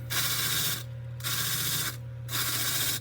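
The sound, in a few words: wire wheel cleaning carved ears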